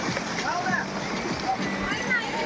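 People bathing in the clear water of the Shivkhola river near Siliguri make steady splashing and sloshing, with voices chattering nearby over the running stream.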